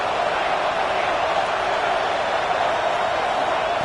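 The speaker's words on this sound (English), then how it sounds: "Home crowd trying to make a difference on fourth down." A home crowd at a football game on a late fourth down roars in a steady, loud, unbroken wash of noise.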